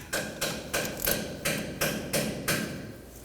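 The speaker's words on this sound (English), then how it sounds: "Now let's tighten this bolt up and torque it to 18 foot-pounds." Fiat 500 bolt being tightened with a torque wrench: eight evenly spaced metallic clicks in a steady rhythm, close and fairly quiet with no talk.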